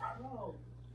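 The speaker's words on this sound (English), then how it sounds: "That's Lena Loudmouth barking at Dennis." A dog barks once, quite faintly and from a distance, over a steady low electrical hum.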